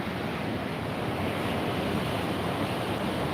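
Ocean surf washes continuously onto a beach, a dense, loud, unbroken roar of breaking waves with some wind noise and no voices.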